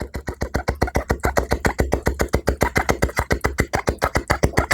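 A voice mimics a helicopter with fast, evenly pulsed chopping bursts repeated rhythmically throughout, close and steady.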